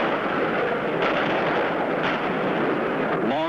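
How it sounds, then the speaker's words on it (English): Long-range Israeli artillery pounds targets in southern Lebanon, heavy booming shots landing about once a second over a dense, continuous roar of battle noise. "Long-range Israeli artillery, sending shell after shell into southern Lebanon."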